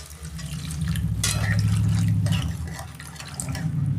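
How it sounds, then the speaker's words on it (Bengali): Water poured into a pan of fish curry with ridge gourd and potato, a close gurgling splash and trickle that swells and then tapers over a few seconds. "আমি পরিমাণ মতো জল দিচ্ছি, বেশি জল দেবো না।"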